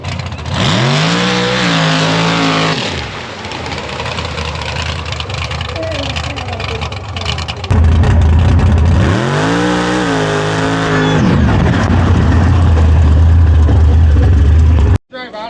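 Mud bog truck engine roaring at high revs as it claws out of the mud pit, loud and close with surging pitch swells and a brief drop-off midway, crowd chatter and commentary faintly underneath.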